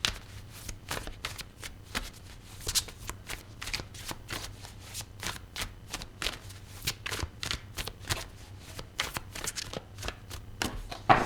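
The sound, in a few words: tarot cards being shuffled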